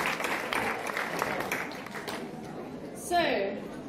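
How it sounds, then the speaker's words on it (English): Conference audience at a guiding and scouting event claps for a couple of seconds, a moderate wash of applause that fades out, followed by a voice speaking at the end. "Applause to all of you."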